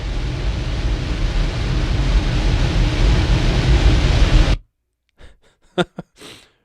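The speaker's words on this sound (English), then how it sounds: "there's this low rumble, which is my furnace vent" A loud, steady low rumble from a household furnace vent fills most of the clip, then cuts off abruptly, followed by a few brief faint clicks.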